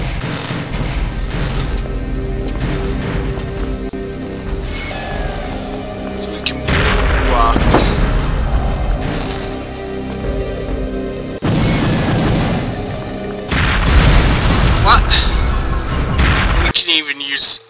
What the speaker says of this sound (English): That guy uses a Slayer rocket launcher.